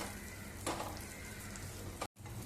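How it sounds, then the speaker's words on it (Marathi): Almonds, raisins and other chopped dry fruit roasting in ghee in a pan, with a steady, close crackling sizzle and a brief stir, then a short gap before the sizzle resumes. "आता हलकासा रंग बदलेपर्यंत सारं साहित्य आपल्याला तुपावरती चांगलं भाजून घ्यायचंय"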